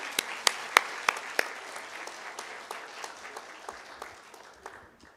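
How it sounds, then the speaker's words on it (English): An audience at a business forum between the EU and Nepal gives the panel a round of applause, with sharp claps up close at first, then steady clapping that slowly fades. "I think they need one round of applause still."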